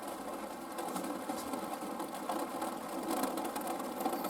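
Heavy rain hammers on a van roof, heard through the roof fan as a dense, steady hiss and patter that keeps a constant level throughout, with no talking.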